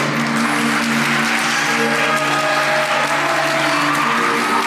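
Steady, dense clapping from a large wedding crowd in an indoor hall fills the whole stretch, loud and sustained without a break.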